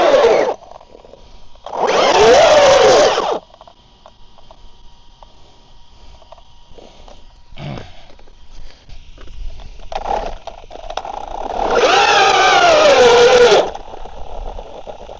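An Arrma Big Rock 223S RC truck's electric motor, running on a replacement ESC, whines up loudly in two long bursts of straining, bogging revs, with short blips and quieter gaps between them.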